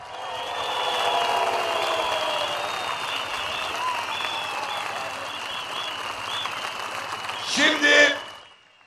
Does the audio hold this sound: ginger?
no